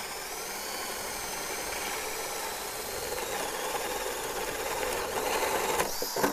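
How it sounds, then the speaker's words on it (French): A variable-speed drill bores holes in wood with a continuous, loud, whirring grind that holds steady and rises slightly toward the end. "Avec une perceuse à vitesse, on prévoit 3 trous pour nos pinceaux"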